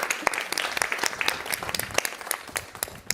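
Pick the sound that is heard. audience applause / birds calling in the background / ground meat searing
audience applause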